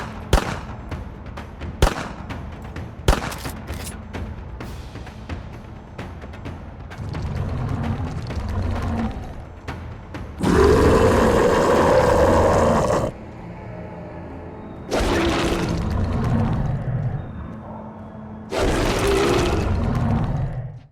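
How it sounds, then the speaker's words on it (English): Gunfire aimed at a rock in a first-person shooter video game comes as scattered sharp shots early on, then long loud sustained bursts of heavy rumbling noise with quieter gaps between. "So shooting the rocks will awaken a giant rock monster."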